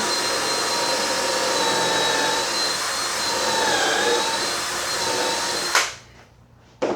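A drill boring a pocket hole in wood with a 1/2 inch bit whines steadily at high speed for several seconds, then cuts off abruptly, leaving a brief quiet followed by a short burst of noise.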